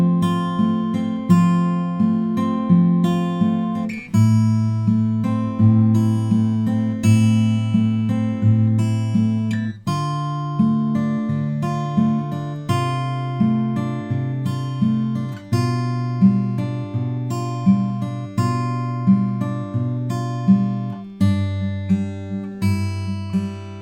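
Fingerpicked acoustic guitar plays a song: clear, steady plucked notes over sustained bass strings, with repeated rhythmic arpeggio patterns and chord changes, alone and close.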